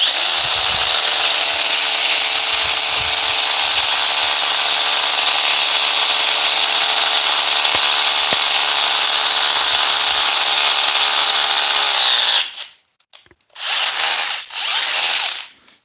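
A Bosch rotary hammer drills into a wall, a loud, steady, close grinding roar that runs for about twelve seconds, then stops, followed by two short further bursts.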